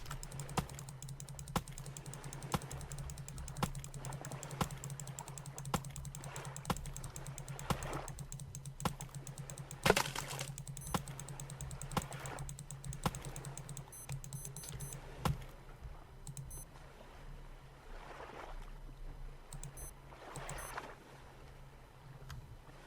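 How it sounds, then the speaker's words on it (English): Axe chops on logs in the survival video game Stranded Deep, a steady series of sharp, faint knocks about once a second over a quiet ambient background. "Now, we run back to the logs and cut them more."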